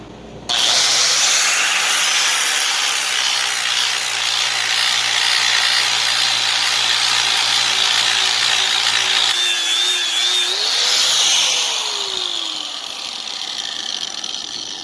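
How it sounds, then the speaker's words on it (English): A 36 grit sanding flap disc on an angle grinder grinds the face of an old anvil, a loud steady whine and harsh abrasive hiss with pitch shifts as pressure changes, ending as the motor winds down. "So we're going to hit it with 36 grit sand wheel."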